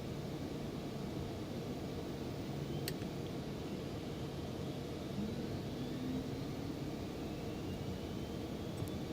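Second engine of an airliner spooling up in the X-Plane 12 flight simulator, a constant broadband roar with faint rising whine tones drifting upward over the steady running noise, no voices.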